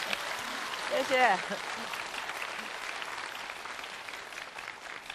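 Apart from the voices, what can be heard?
studio audience applause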